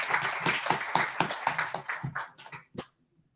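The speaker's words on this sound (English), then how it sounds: "can we just give ourselves a big round of applause again" Online audience applause at a Green Street neighbourhood community event: a dense burst of clapping thins into a few scattered last claps, then stops.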